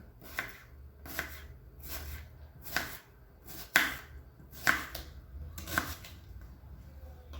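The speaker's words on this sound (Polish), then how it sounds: "Następnie kroję cebulę. Również w kostkę." A knife dices an onion on a cutting board for a tuna and rice salad, about eight evenly spaced crisp chops, close and fairly quiet, with no talking.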